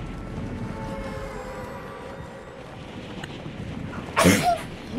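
A single sharp sneeze bursts out near the end, loud and close, over a background of game sounds with a low continuous hum and tonal noise.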